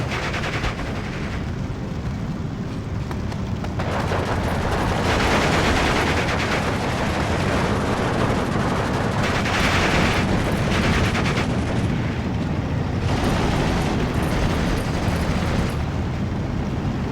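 Tank gunfire in Steel Division 2, a World War II strategy game with Panzer IVs fighting a T-34, rolls on as a dense, continuous barrage of shots and blasts at steady loudness.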